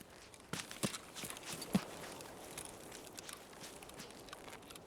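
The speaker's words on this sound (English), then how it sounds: "my own footsteps are so obnoxiously loud now" Footsteps of the player's own character in a video game, played loudly, a few sharp steps followed by fainter irregular ones over quiet background noise.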